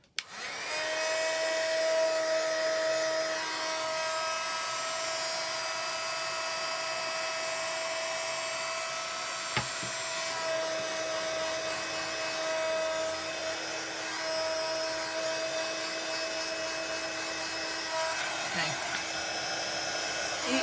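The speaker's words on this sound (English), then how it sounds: "I want to make sure my heat gun is on and warmed up before I start putting it on the card." A heat gun runs steadily with a constant tonal whine and broadband airflow hiss, used for heat embossing a stamped card, holding an even level throughout with a brief click midway.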